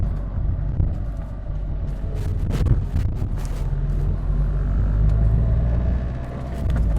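Steady car engine rumble from inside a car driving in second gear after a downshift on roads around Mantes and Buchelay, with a low continuous drone and wind noise running for the whole stretch.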